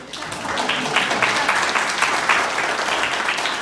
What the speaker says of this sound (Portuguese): Vamos aplaudir o nosso voluntário.